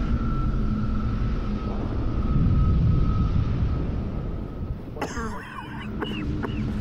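In Halo 3: ODST, a Phantom dropship sets down with a deep, sustained engine rumble and a steady tonal whine, rising slightly in the middle, followed by sharp mechanical clanks near the end.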